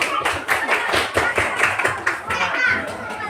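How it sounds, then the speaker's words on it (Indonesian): Classroom applause for a student group, with children clapping in a dense, rhythmic patter and excited chatter mixed in throughout. "berikan tepuk tangan untuk kelompok inovasi"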